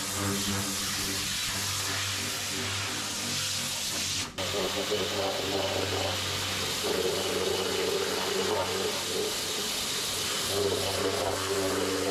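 Pressure washer spraying water across the bed of a Dodge Ram pickup being cleaned for rust treatment, a steady loud hiss and rush of water with an engine-like hum beneath, continuous and close.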